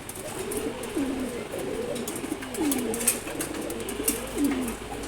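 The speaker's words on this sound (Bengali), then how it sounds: "কবুতরগুলো খুবই সুন্দর।" Maxi racer pigeons cooing in repeated low, throaty rolling calls, close by and fairly clear, with faint higher chirps and background noise behind them.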